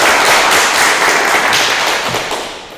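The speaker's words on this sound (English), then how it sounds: "Another round of applause for Professor Andrea." An audience at a university storytelling salon gives a loud, dense round of applause for a professor, a steady wash of many hands that tapers off slightly at the end.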